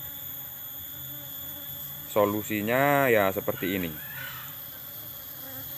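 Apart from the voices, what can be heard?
honey bees buzzing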